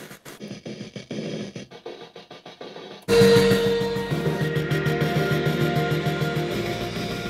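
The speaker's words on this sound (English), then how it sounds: "glitchy sounds." Crackly, scratchy electronic textures open quietly, then a dense burst of glitchy synth noise takes over with a steady pulsing beat, loud and busy.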